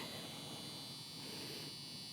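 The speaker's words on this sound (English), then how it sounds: "Door buzzer still works." A faint, continuous electronic buzzing tone from the door buzzer of a 1973 Ford Mustang Fastback holds steady for a couple of seconds against a quiet background hum.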